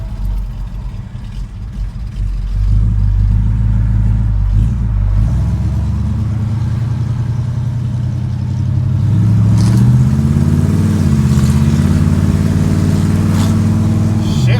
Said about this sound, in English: I'll just go for a little test spin on my little test drive road around the corner.